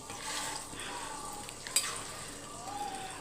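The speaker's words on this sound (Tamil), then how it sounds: "இவ்வளோ ஒரு ஈடு மீனும் வறுத்து எடுத்துட்டேன் இன்னொரு ஈடு தான் போட்டிருக்கேன்" Mackerel pieces fry in hot oil in a pan during a second batch, producing a steady, moderate sizzle with a single sharp utensil clink partway through and no voice.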